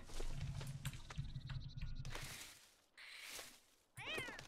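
Cartoonish cat meows from The Sims pet gameplay, several short mewing calls over soft background game music, ending in a rising meow.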